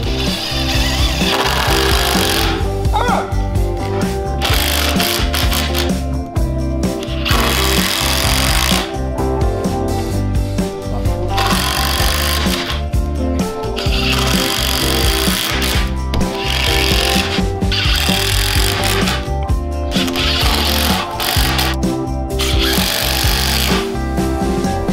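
A power tool works through wood in long, loud, close bursts separated by short pauses while a miter saw station is assembled with screws, a harsh grinding whir with no speech.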